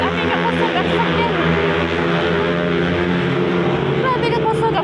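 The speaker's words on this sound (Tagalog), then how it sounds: "Grabe ka kusog ang motor eh." A motorcycle engine roars loudly and continuously at close range, a dense steady drone that holds for several seconds while voices talk over it.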